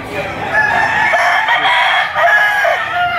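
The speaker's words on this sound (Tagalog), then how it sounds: "Magandang manok." Roosters for sale at an outdoor market crow and cluck in a loud, dense chorus from many birds close by, with faint murmuring voices in the background.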